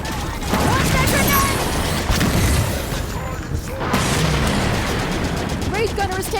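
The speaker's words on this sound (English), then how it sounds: "Grenade incoming!" A grenade blast amid Halo 5: Guardians combat: rattling gunfire and crashing booms pile up over a continuous roar, loud and near, with voices shouting over the action.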